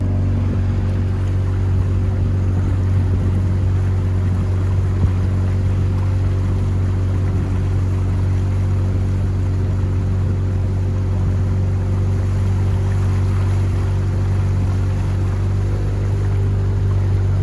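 A boat motor runs on a river in Borneo, a steady low droning hum that holds evenly throughout at close range with no voices.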